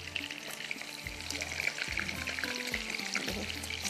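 Chicken kebabs fry in hot oil with a continuous dense crackling sizzle, close and steady throughout, with a few low knocks in the background and no talk.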